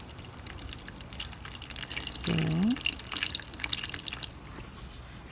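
Water is poured into a succulent planter, a close, gentle trickling and dripping stream that swells for a few seconds in the middle, with a brief spoken word near the start.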